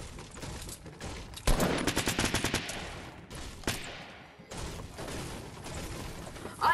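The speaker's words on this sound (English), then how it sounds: "Dude, there's a burst assault rifle." Burst assault rifle fire in the video game Fortnite, a rapid run of loud, closely spaced shots followed by a few scattered single bangs over steady game ambience.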